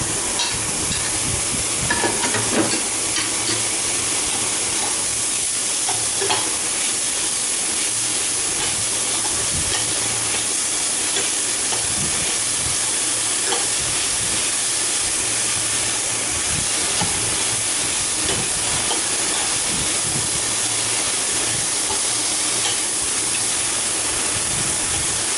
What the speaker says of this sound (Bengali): এবার আমি এতে পেঁয়াজটা দিয়ে দেব।